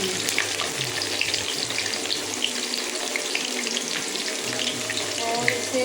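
Fenugreek seeds, cumin and chopped garlic fry in a pan with a steady, close crackling sizzle that holds for the whole stretch, with faint stirring and clinks over it.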